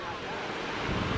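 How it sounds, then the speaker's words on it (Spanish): Ocean waves wash onto a beach on a cold day during a family holiday, a loud, close rush of surf mixed with wind buffeting the microphone, brief and without talk. "¡Ay, madre mía, las olas!"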